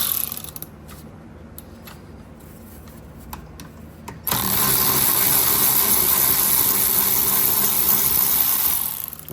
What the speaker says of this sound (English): I'm gonna use my power ratchet now